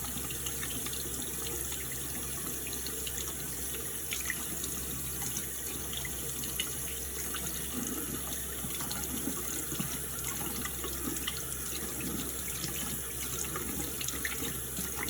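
Running water rinses a body scrub off the skin in a steady, continuous rushing stream, close and even, with no talking.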